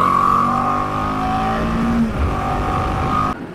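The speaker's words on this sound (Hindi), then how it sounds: "अभी हमने बाइक लगा दी कोल्ड स्टार्ट में" A motorcycle engine runs steadily after a cold start, loud and close, with a constant droning hum that holds for a few seconds and then cuts off abruptly.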